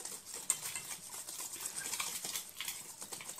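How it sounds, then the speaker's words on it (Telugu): Ghee and sugar being beaten together by hand in a bowl for nankhatai, giving faint, quick scraping and stirring strokes in an uneven rhythm with a small clink near the start. "మన షుగర్ అనేది ఘీలో బాగా మెల్ట్ అవ్వాలి అంతవరకు బాగా బీట్ చేసుకోవాలి"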